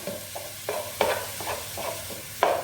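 Pork mince browning in a pan, a quiet sizzle broken by repeated scraping stirs at an uneven rhythm, close by with no talking.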